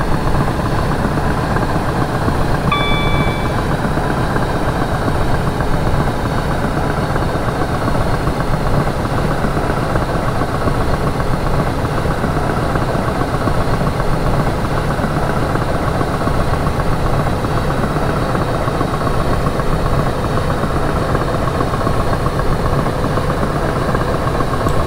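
Class 317/5 electric train in Train Simulator 2017 accelerating at full throttle, a steady, loud mechanical drone and rumble that holds unchanged throughout, with no voices over it.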